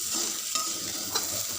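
Coriander vadi fritters fry in hot oil, a steady close sizzle with a couple of faint clinks, no voices.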